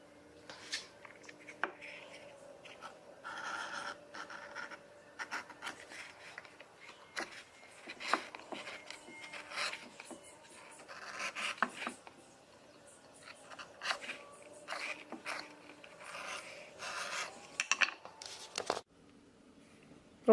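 Leather piece being cut out by hand for a shell carrier back panel, with close, irregular scraping and slicing strokes and soft handling noises continuing steadily throughout.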